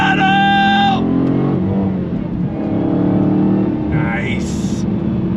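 A Dodge Challenger Hellcat (2023, Jailbreak) pulls hard at full throttle in second gear, its loud engine rumble dense and sustained from start to finish, with a brief rising whine near the end.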